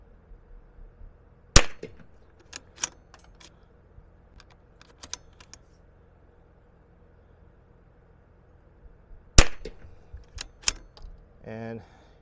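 A Zermatt Rim-X bolt-action rifle at a shooting range fires two sharp reports several seconds apart, each followed by clicking bolt-cycling noises, and the bolt is worked between them.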